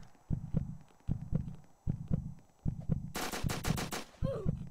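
Gunfire in the Apocalypse Rising game, a regular series of evenly spaced single shots, followed by a quick loud burst of rapid sharp cracks, then a few more shots, all fairly close.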